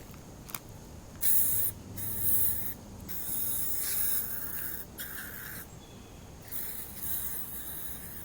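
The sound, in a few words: bug spray being sprayed from a can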